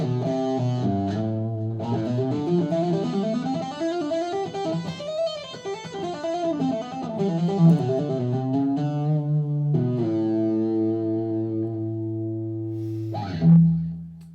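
An electric guitar overdriven by the Kemper's OD stomp pedal plays sustained, gritty chords and bending lead lines, thick and harmonically dense, ending with a short punchy accent.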